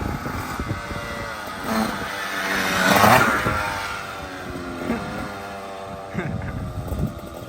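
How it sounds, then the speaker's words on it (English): A KTM dirt bike fitted with a tubeless tire, its engine running and revving up and down, swelling loud around the middle, with a voice speaking briefly between revs. "It's a fast bike. KTM runs nice."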